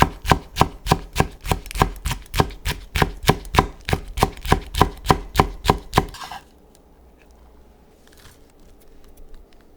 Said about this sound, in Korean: 칼칼하게 청양고추 2개는 반을 갈라 얇게 채 썰어 같이 담아주세요.